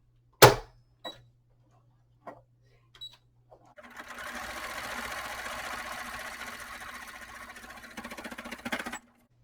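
A household sewing machine stitches along the edge of folded fabric for a tote bag, started by a button rather than a foot pedal: a few clicks and taps, then a steady close whirring run of about five seconds that stops abruptly.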